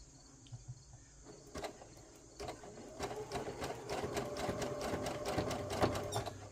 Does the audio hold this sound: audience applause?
no